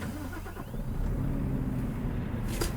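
A Tata truck engine in a truck-driving video game turns over and settles into a steady, heavy, low rumble that swells slightly after the first second and continues loud throughout.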